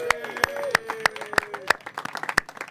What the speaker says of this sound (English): If you're one of those, round of applause.